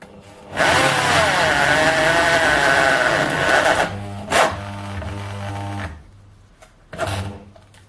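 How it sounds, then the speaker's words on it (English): A loud 500 watt power drill whines under load, driving a cheap self-drilling spiral thread tap into thin-walled steel for several seconds, then short bursts of drilling with pauses between. "I tried drilling with 10 mils through some of this thin-walled steel"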